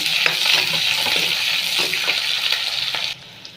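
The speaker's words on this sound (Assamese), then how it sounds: "পেষ্টখিনি অলপ ভাজি লওঁ" Sesame paste frying in a pan with cinnamon, sizzling steadily with repeated scraping stirs, close and fairly loud, then cutting off abruptly near the end.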